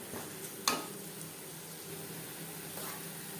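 Cauliflower leaves sizzle softly in a pan while being stirred, a faint steady frying hiss with one sharp utensil clink near the start and light scraping later.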